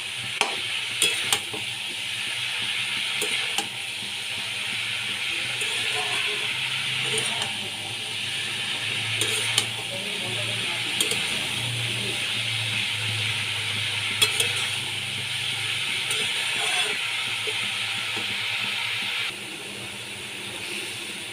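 Cabbage fries in a pan while being stirred, a steady close sizzle and hiss with periodic scraping and clinks from the spatula over about twenty seconds, with no voice heard.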